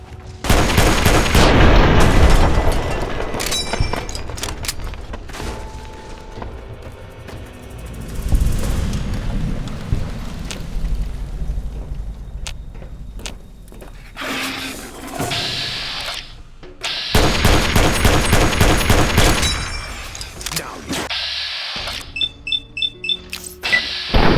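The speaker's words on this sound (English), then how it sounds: "Opening fire." Gunfire in bursts: a loud rapid volley at the start, scattered lighter shots and booms through the middle, then another dense barrage near the end, with faint voices in between.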